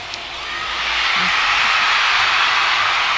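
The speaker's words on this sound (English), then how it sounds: "The crowd is chanting 10." Large arena crowd at a college gymnastics meet, LSU hosting Ohio State, a loud roar that swells after the first second and holds as a sustained wash of cheering and chanting.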